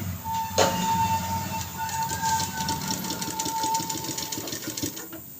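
A sewing machine stitches a fabric border, running steadily and close up for several seconds with a rapid, even mechanical rhythm, tailoring-class style with no talk over it.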